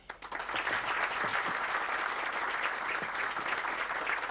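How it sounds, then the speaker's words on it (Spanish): Audience applause at a gathering honouring Fafa Taveras on the 57th anniversary of the April war, a dense, even roar of clapping that swells quickly and stays steady to the end. "Otro fuerte aplauso"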